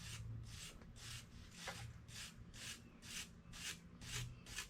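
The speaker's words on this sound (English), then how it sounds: "Wire brush does work pretty good to get that." A wire brush scrubs old silicone off an engine part during a cam seal install on an SRT-4, making steady back-and-forth rasping strokes, about a dozen evenly spaced scrapes, close and alone.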